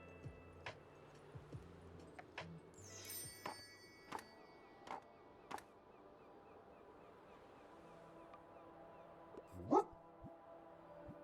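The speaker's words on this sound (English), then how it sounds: "It's a stray dog." A hungry stray dog in the Tiny Book Shop video game gives a string of short barks and soft whimpers, with a louder yelp near the end, over quiet game ambience.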